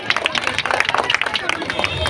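Applause breaks out at a blood donation camp as a crowd claps to welcome a local member of parliament, with a rapid patter of hands mixed with crowd chatter and voices.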